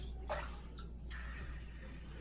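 A BMX inner tube is dunked into water to find a puncture, giving a couple of brief splashy, squishy bursts over a steady low background hum, faint and close.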